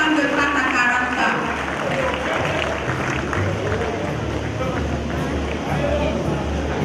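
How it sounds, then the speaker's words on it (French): A crowd applauds the choir group Anne, young women from Patakaraka, at a church anniversary celebration of ASC AD Gounghin. The sustained, dense clapping and crowd noise fill the whole stretch and stay steady throughout. "Applaudissez pour le groupe Anne, une jeune femme de Patakaraka"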